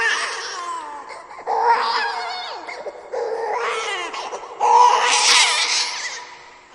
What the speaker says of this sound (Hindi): उसके हर कदम के साथ बच्चे की रोने की आवाज और तेज होती चली गई।